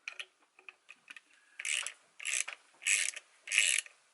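Snap-on ratchet tightening longboard hangers and deck adaptor hardware, a run of quiet ticks followed by four longer, louder bursts of rapid clicking ratcheting, close up with no voices.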